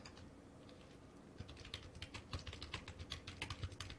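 Someone types an email on a computer keyboard, close and quiet, as a steady run of soft key clicks that grows busier partway through, with no talking.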